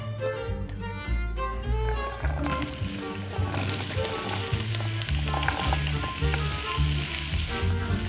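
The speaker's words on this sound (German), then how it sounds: "Wir malen das Gemüse mal hier in dieser Sauteuse" Vegetables sizzle and fry loudly in a hot sauté pan, a constant crackling hiss with stirring and scraping, while music plays underneath.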